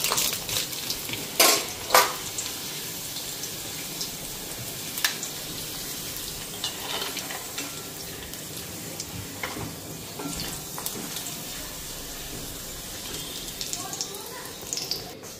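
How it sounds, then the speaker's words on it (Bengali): Papad frying in hot oil in a home kitchen, a soft crackling sizzle running steadily with a few sharp clinks of utensils early on. "পাপড়টাই ভেজা দিই।"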